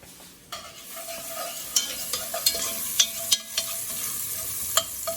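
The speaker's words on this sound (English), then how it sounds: "So my shallots are sweating really good." Shallots sweating in a pan, a soft, steady sizzle broken by repeated clicks and scrapes of a spoon stirring, close and without talk.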